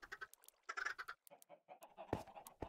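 Minecraft chickens on an egg-farm platform give a rapid run of short, soft clucks and squawks, close and fairly faint, with a couple of sharper clicks near the end and no voices.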